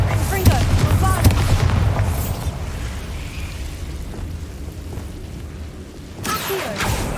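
Spell explosions from Bombarda and Confringo in the video game Hogwarts Legacy, booming blasts with crackling bursts over a constant loud rumble of game sound, with a few sharp hits near the start and end.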